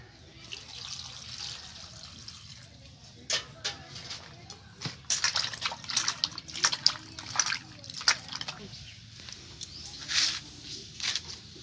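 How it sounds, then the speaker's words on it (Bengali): Chopped chalta (elephant apple) pieces being washed in water by hand, with quiet sloshing, splashes and drips building into irregular bursts over a low background hum. "এবার জল দিয়ে ভালো করে ধুয়ে নেব।"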